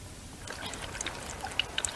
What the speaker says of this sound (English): Sue, release Cherryade on the shower